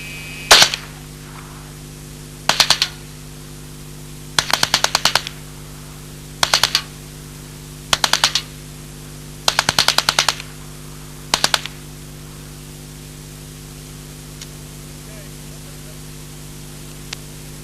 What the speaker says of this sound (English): shooting the machine gun in a fully automatic mode with one hand